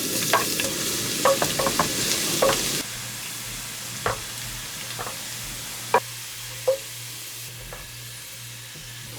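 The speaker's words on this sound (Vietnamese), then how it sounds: "Dầu nóng thì mình cho tỏi vào phi thơm." Garlic sizzles and crackles in hot oil in a frying pan, loud and dense for a few seconds, then settles into a softer fry with scattered sharp pops and stirring clicks.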